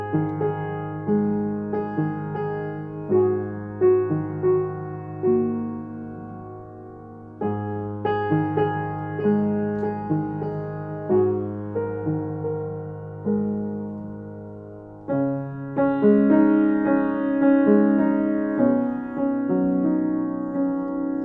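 A solo piano plays a slow, gentle melody with sustained chords, phrases pausing and restarting, growing slightly fuller toward the end.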